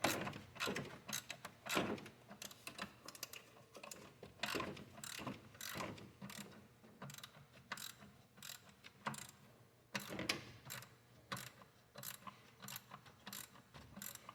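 Bolt being threaded in by hand on the alternator mount of a 2004 Subaru Forester, a faint series of irregular clicks and ratcheting metal ticks, close and quiet with no talking.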